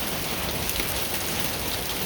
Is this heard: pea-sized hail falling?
yes